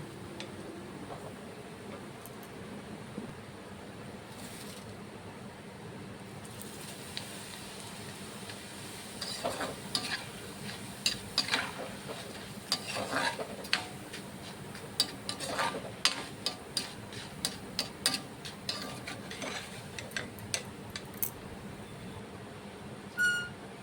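Flattened rice (chira) frying in a pan for laddu, a steady low sizzle with soft scraping and stirring clicks that grow busier midway, close and moderately quiet with no talk.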